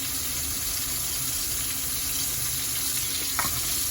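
Boal fish frying in a pan with onion and chili, a steady broadband sizzle running throughout, with a brief clatter near the end.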